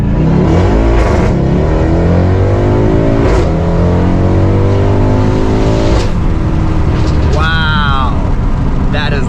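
A loud 2019 Mercedes C63 AMG engine revs hard and roars up through repeated climbs in pitch, close by and dominating.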